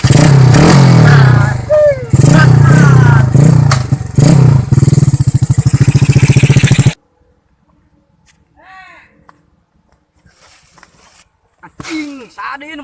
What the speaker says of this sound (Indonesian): Motornya kayak mogok sayang.